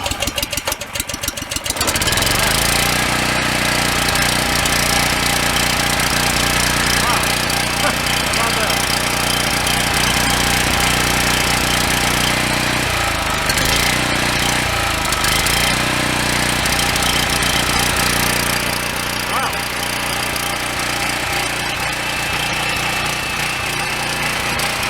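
A PowerBack 5000-watt generator with a 9 HP Briggs & Stratton engine starts on choke after a brief rattling pull. It then runs loud and continuous with a rough, uneven idle that dips in places.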